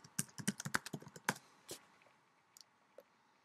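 Password being typed on a computer keyboard at a home development machine: a quick burst of close, crisp key clicks, then a few scattered presses trailing off, with no talking.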